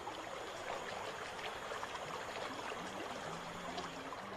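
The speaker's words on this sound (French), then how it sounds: "Rapides et cataractes sont fréquents en Guyane." River rapids and waterfalls in French Guiana rush in a steady, unbroken wash of water noise, moderately distant and even in level throughout.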